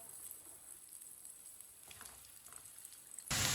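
Chopped garlic and onion browning in a pan for an arbi salan, giving a low, steady sizzle with a hiss that swells sharply at the very end.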